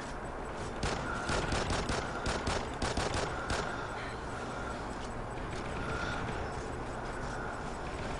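Enemy gunfire in a Call of Duty: Ghosts multiplayer match rattles in rapid bursts over the first few seconds, then gives way to a steady, moderately loud game background with scattered distant shots.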